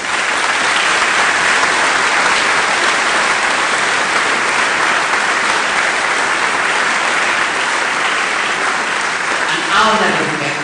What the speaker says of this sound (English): can we have a big warm round of applause?